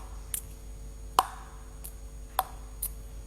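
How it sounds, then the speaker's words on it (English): A few sharp, clicky taps of a table tennis bat striking the ball, spaced unevenly over a quiet background, two of them noticeably louder, flat contacts louder than soft ones. "the sound of the bat on the ball"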